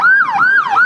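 An ambulance siren wails in a loud, close, rising-and-falling two-tone sweep that repeats about twice in under a second as it drives past on a town street.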